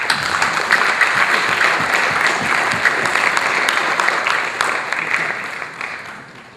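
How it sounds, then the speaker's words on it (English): Sustained applause from an audience at a Toastmasters event fills the room, steady and fairly loud, tapering off slightly toward the end. "Please give a thunderous applause"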